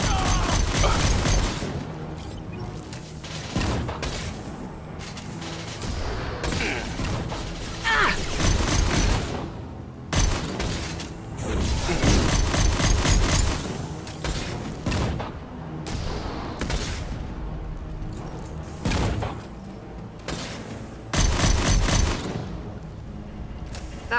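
Weapons fire in Mass Effect 2: a dense, continuous firefight of rapid gunshots, bursts and booms with metallic mechanical clatter, loud and sustained throughout with only brief dips.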